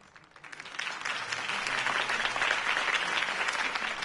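Applause from a crowd in Batman: The Telltale Series swells in over the first second, then continues as steady, dense clapping without voices.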